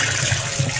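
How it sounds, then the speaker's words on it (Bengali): Chicken gets washed under a running tap, with a brief burst of close, steady water flow and splashing. "চিকেনটা ধুয়ে নিই।"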